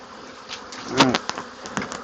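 Honey bees humming in a hive frame with newly drawn comb, a continuous near buzz swelling briefly as several bees fly close past, then settling back to the steady drone.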